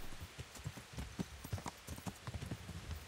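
Horse hooves clip-clopping in the video game Kingdom Come Deliverance, a quick irregular gallop of soft thuds running steadily for a few seconds, fairly close and alone without talk.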